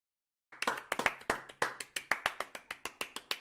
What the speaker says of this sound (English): That's the strangest clap I've ever seen.